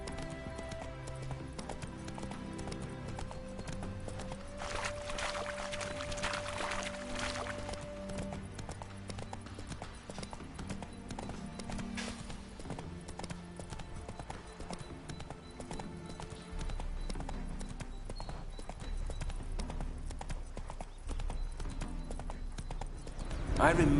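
Horse hooves clip-clop steadily through a fantasy video game (The Witcher 3), with an occasional whinny and a dense music bed underneath while characters talk over it.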